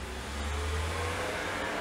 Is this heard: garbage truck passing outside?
yes